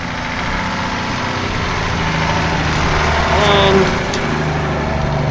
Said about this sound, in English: Number 50 on the approach to us in the commentary box now is a Land Rover 1-ton from Alan Marshall.